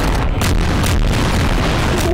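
A dense, rumbling blast fills the whole clip, with heavy low-end booms and steady loud noise, like continuous explosions in Garry's Mod.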